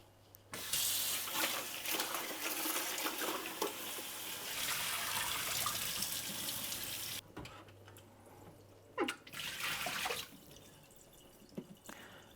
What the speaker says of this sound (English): rinse with room temperature water.